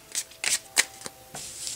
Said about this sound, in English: We'll pull a card from the oracle.